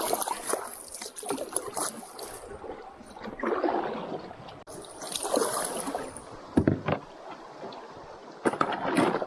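A solo canoe is paddled upstream through a very rocky, steep current, with rushing water and scraping paddle strokes up close, punctuated by a few sharp knocks and splashes.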